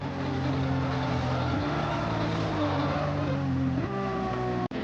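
Lamborghini Diablo race car in a Gran Turismo video game, its engine droning loudly and steadily with shifting pitch, then cutting off abruptly near the end.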